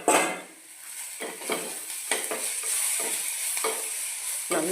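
Fish pieces frying with ginger garlic paste in a pan, stirred with a utensil: continuous sizzle with repeated scraping strokes and clinks against the pan, close and fairly loud.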